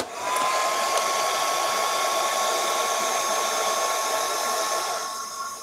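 A hair dryer blows hot air onto a cookie cutter decoration to soften it and make it flexible, a steady close whirring hiss that holds for about five seconds and then tails off slightly, with no talking.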